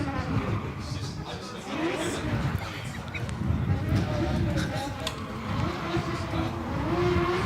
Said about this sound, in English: Sam Magmami warming up his tires